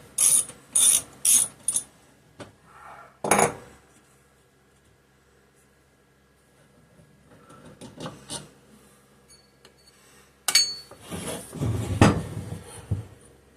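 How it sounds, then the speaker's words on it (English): A ratcheting wrench loosening bolts on a Homelite XL12 chainsaw, with quick bursts of close, crisp ratchet clicks, pauses, a sharper clack, then quieter fiddling and more ratcheting near the end. "And these two down here, use the ratcheting wrench to get them loose at least."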